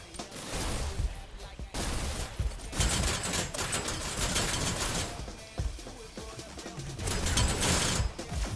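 Rapid bursts of gunfire and impacts from a competitive VR shooter match, dense and loud throughout, with a commentator's voice mixed in.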